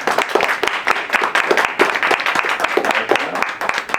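Steady applause from a small theatre audience welcoming a participant onstage, a dense patter of hand claps with little variation.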